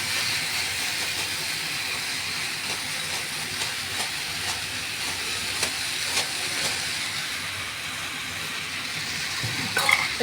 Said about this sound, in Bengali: এবার নুনটাকে একটু মেশার জন্য নাড়িয়ে দেবো।